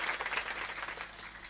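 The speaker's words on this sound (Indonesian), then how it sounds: "tepuk tangan yang meriah." A quick burst of audience applause at a school book launch, many hands clapping together in a brief, even patter at moderate distance without speech.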